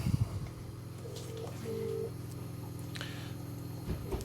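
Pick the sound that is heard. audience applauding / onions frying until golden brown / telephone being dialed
telephone being dialed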